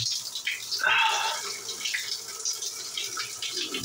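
An ice cold shower runs in a bathroom as a faint, steady hiss of falling water with splashy bursts, captured from a little distance.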